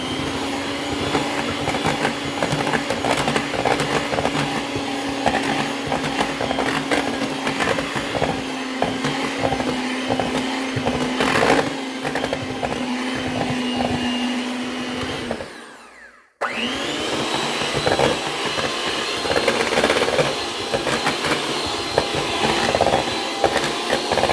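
An electric hand mixer whirs steadily through banana cake batter with a constant motor drone and light scraping. It cuts out briefly for about a second, then starts straight back up and keeps running, close and loud.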